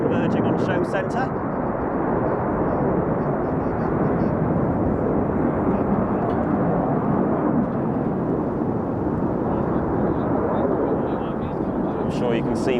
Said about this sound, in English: we look out to the left and the right, 2 aircraft on either side, converging on show centre